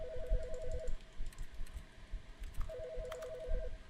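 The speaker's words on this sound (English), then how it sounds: "The phone." A telephone rings in The Stanley Parable Ultra Deluxe, two trilling electronic bursts about two seconds apart over a low background hum, with no talking.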